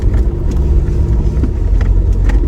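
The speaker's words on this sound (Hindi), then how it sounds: "यहाँ से हमारी गाड़ी पहला जो ऑफ रोड थोड़ा सा ट्रैक है इसको क्लियर करेगी" A car grinding along a rough off-road dirt track on the way to a jungle wedding, with a steady low engine rumble and bumping, close and continuous throughout.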